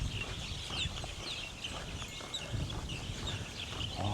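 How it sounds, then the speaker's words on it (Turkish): Birds call repeatedly with short chirps and clucking notes over a low background rumble in Thailand, moderately near, no talking. "Abi bu nasıl kuş sesi ya?"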